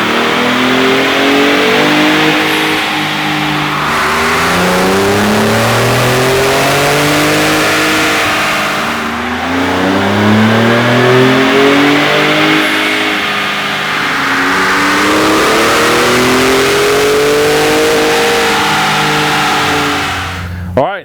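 A 2017 Ford Raptor revs hard on a dyno, its loud engine note sweeping up and down through repeated long pulls across the whole stretch, with no talk.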